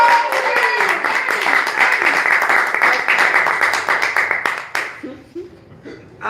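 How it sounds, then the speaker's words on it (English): Applause from a poetry-reading audience, loud and close: a dense burst of clapping with some cheers and chuckles that fades out over the last couple of seconds. "clap it up for Ice Nation"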